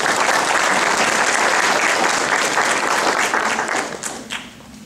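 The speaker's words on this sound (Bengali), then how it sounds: "আসুন সমস্ত শিল্পীদেরকে একটু করতালি দিয়ে অভ্যর্থনা।" An audience at a musical night applauds to welcome the musicians, including a tabla player; loud, dense clapping sustained throughout before tapering off toward the end, with no talking.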